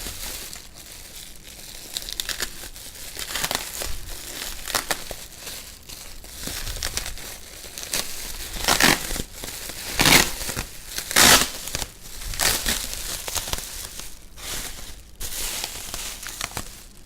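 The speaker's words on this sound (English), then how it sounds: "So it comes in one of these silver bubble wrap envelopes as well" A silver bubble wrap envelope from a meal kit food box being handled, with continuous close crinkling and crackling plus louder crunchy bursts as it is squeezed and turned.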